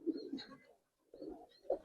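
Pigeons coo close by in two short bursts with a silent gap between them, low throaty calls with no voices present. They are Musaldam breed show birds, a pair kept for sale.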